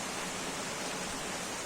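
Steady, heavy rain falls outdoors in Nepal, a dense and even hiss with no breaks, moderately quiet and without voices.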